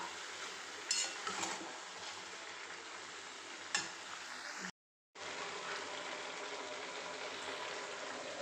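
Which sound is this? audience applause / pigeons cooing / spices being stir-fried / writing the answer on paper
spices being stir-fried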